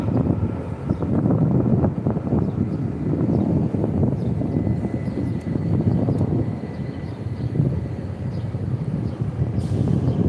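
Lufthansa airliner passing at Newark airport, a steady broad roar of jet noise with wind buffeting the microphone, holding loud and even throughout.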